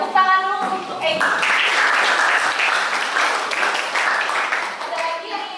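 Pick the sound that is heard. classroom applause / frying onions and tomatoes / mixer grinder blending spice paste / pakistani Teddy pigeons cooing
classroom applause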